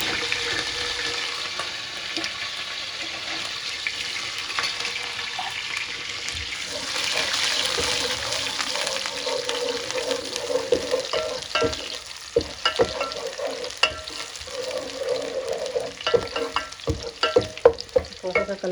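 Curry leaves and onions fry in hot oil in a cooking pot with a steady, dense sizzle, close by, joined by scraping stirs and clinks later on, and no talking.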